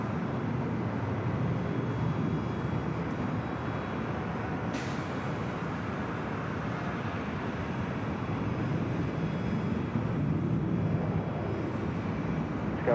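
Jet airliners taxiing and taking off at LAX, a steady broad engine roar that holds evenly at a distance with no voices over it.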